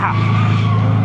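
Tires on a 150HP BMW E30 squeal in a long continuous skid as the car drifts, loud and close, with the engine droning underneath.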